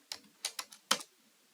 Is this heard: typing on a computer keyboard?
yes